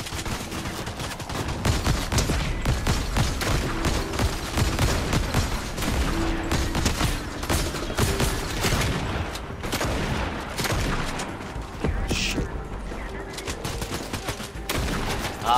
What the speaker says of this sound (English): The guy who's shooting at me is the guy who's on.